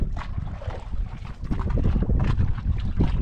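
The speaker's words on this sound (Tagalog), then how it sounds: "Ibang klase yung hangin ngayon ah. Ano pa, may unos pa na." Strong storm wind at sea roars and buffets steadily around a small boat, loud and close, with gusts rising toward the end.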